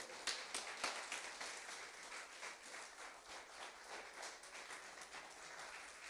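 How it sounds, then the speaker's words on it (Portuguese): Church congregation applauding in worship, a faint, distant wash of many hands clapping that stays steady and soft from start to finish. "Aplauda ao Rei dos Reis e Senhor dos Senhores"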